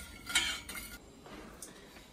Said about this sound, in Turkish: Şeker eriyene kadar karıştırıyoruz